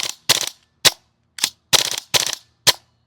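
Airsoft gas blowback rifle firing full auto, seven short sharp bursts of rapid cracking shots with crisp gaps of silence between them, close and loud.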